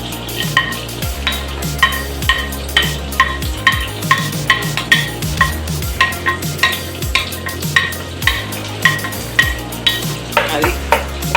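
Butter and garlic cooking in a pan for white sauce pasta, a loud steady sizzle with regular rhythmic scrapes of a spoon stirring, close up and with no talking.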